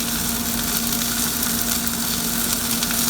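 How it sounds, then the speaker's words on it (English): Minced garlic sizzles steadily in a hot frying pan, a close, even crackle that holds at a constant level throughout with no voices over it. "now I'm gonna add a little bit of minced garlic"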